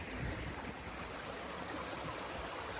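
A mountain stream crossing a coastal hiking trail in Newfoundland rushes and gurgles in a steady, broadband wash, close and continuous with no voices.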